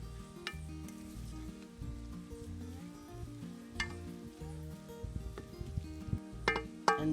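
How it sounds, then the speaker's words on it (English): A wooden spoon stirs callaloo greens in a pot outdoors, with a steady sizzle and soft scraping that continue throughout, plus a few light clinks of cookware near the end. "And then I will mix it around with my wooden spoon."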